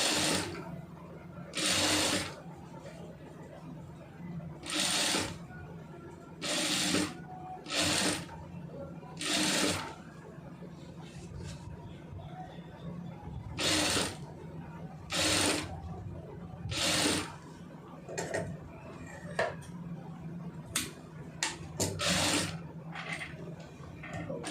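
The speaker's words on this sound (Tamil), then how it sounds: "ரெண்டு தையல் வந்து போட்டுருங்க." A sewing machine stitches a neck design on cloth in repeated short bursts of rapid mechanical whirring, separated by brief pauses, close up with faint background noise.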